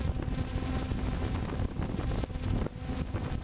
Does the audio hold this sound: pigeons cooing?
no